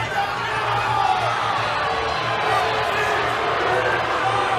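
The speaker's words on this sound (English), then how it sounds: "The crowd unhappy here with just the frustration of not seeing their guy being able to get to his offense" A college wrestling crowd at a Penn State vs Nebraska dual makes a dense, loud, unhappy roar of shouts and jeers that holds steady throughout.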